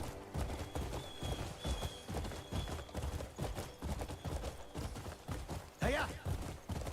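A horse's hooves clip-clop in a steady, even rhythm inside a video game. The hoofbeats are quiet and constant, and a brief vocal shout cuts in near the end.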